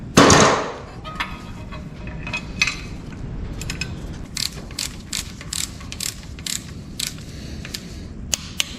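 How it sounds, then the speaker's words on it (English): A ratcheting torque wrench clicks as it tightens bolts on the front and rear covers of a 6.0 LS engine during a rebuild, with a burst of rapid ratchet strokes followed by spaced, sharp clicks close by. "torquing it for the second time"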